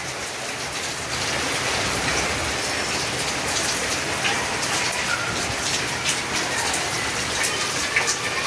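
Rain falls steadily and loudly during the hot summer season, a constant patter of drops on a hard surface with nobody speaking.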